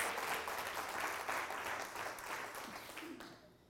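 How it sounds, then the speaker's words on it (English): A crowd claps steadily for a few seconds, the applause fading out toward the end. "So clap with me if you acknowledge that faith is now in the workplace."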